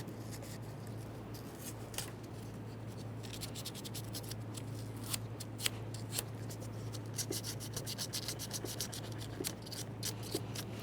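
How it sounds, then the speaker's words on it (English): Fine sandpaper rubbing corrosion off a car battery cable during a fog light kit job on a 2012-2018 Nissan Altima, with faint, fast scratchy strokes over a low steady hum, close and continuous. "We'll use some fine sandpaper for this. Try to remove as much corrosion as possible."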